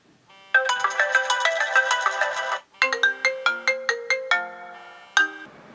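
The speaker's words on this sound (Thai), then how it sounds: "ทดสอบลำโพงอีกรอบด้วยการเปิดริงโทนก็ได้นะครับ" An iPhone 6 Plus ringtone plays through the phone's own speaker at full volume: a bright, clean run of marimba-like notes, then a second phrase of distinct struck tones, with no voices.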